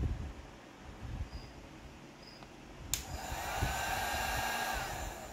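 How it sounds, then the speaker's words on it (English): A heat gun switches on at maximum output while powered from a portable solar power station, its fan blowing with a steady, loud, airy whine that rises and holds, after a quiet stretch of faint background hiss. "I'm going to do the heat gun again on max output."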